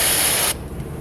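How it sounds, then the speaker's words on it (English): Brake cleaner sprays from an aerosol can during tire balancing work, a loud continuous hiss for about half a second that cuts off abruptly, leaving quieter mechanical rustle. "So I'm going to use the brake clean to spray."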